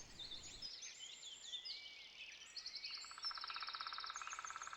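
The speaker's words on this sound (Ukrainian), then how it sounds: "Ця пташка невеличка, називається синичка." A titmouse chirps and twitters in thin, high calls, some rapid trilling phrases repeating close by, with faint background hiss and no talking.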